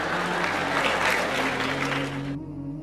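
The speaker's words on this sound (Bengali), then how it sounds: "হাততালি থামাও।" Audience applause from a lecture hall crowd, a dense steady clapping that stays loud and continuous, then thins slightly toward the end.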